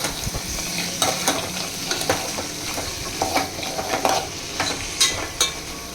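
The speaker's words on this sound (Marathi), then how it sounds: "हे आमच्यापर्यंत पुरते जेवढेच चणे टाकले त्यांना असं ढवळायचं" Chickpeas are stirred into a vegetable curry in a pan: a spoon scrapes and clinks repeatedly over a soft, continuous sizzle, close by and fairly quiet.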